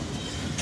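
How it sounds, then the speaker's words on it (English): A train rumbles along the track in the Evansville, Indiana area, a steady broadband roar with low rolling rumble, loud and close, and no talking over it. "I'll turn the car off so you can hear the train a little bit better."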